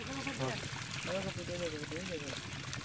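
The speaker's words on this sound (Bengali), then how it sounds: "ওই বালতিটা পানি ছেঁচে দিই" Water splashes and pours repeatedly as it is bailed with a bucket from a fishing pond and tossed out, with people talking over it outdoors.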